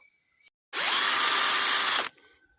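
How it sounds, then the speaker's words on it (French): A 320 volt electric drill bores a hole into a tree trunk, one loud, steady whir of about a second and a half, with a fainter motor whine just before and after. "On va percer un trou"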